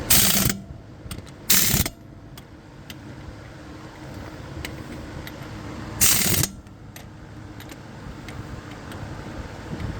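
An impact gun rattles in short bursts while removing wheel or brake fasteners on a 2007 Toyota Prius brake job, with two quick bursts near the start and another a few seconds later over quiet shop ambience.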